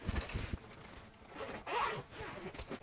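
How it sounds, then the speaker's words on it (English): The zipper on a document organizer pouch is pulled close by in a few quick, scratchy runs, with short pauses between strokes. "and then it's got a zipper"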